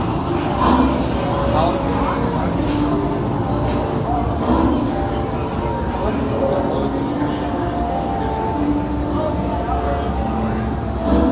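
A Hogwarts-themed train ride rolls along with a continuous low rumble and rattle, while people talk over it.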